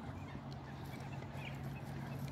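Ducks at a park pond at Wollaton Hall give faint, scattered calls over a steady low background hum, with no one talking.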